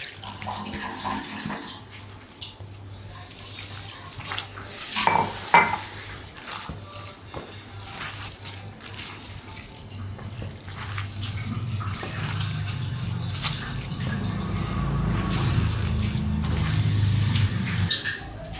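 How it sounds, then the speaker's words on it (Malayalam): Rice flour batter being mixed and kneaded by hand with added water, giving soft wet squelching and sloshing that runs steadily and swells louder toward the end, close up with no talk. "കുറച്ച് വെള്ളം ഒഴിച്ചതിന് നന്നായിട്ടൊന്ന് കുഴച്ചെടുക്കാം."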